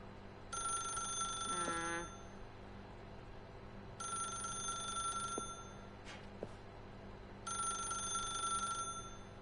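An old telephone in The Stanley Parable rings in three separate long bursts with pauses between them, steady and moderately close over a low background hum.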